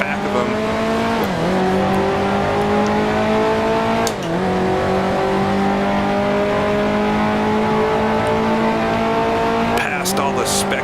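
A 1955 Formula One car in the Grand Prix Legends racing sim roars through a twisty street circuit with a steady, buzzing engine note. It dips and rises sharply about three times as the driver brakes and downshifts.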